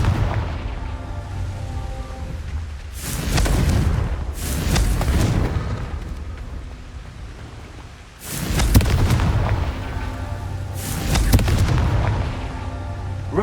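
Blasting-spell explosions in Hogwarts Legacy boom out twice in pairs, loud and heavy with rumbling tails, over a steady low game ambience.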